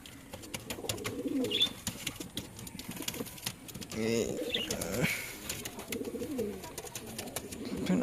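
A fit white Chiniya male pigeon coos in soft, low, repeated phrases close by, mixed with other bird calls, light clicking noises and background talk.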